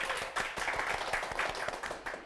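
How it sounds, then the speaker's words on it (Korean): Audience clapping for a lecturer after a magic-themed art history talk show lecture; fairly quiet, with distinct individual claps forming a loose, uneven rhythm through the short stretch. "네, 멋진 마술을 보여주신 오은영 강사님께 다시 한번 큰 박수 부탁드릴게요."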